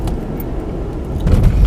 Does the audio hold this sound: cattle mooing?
no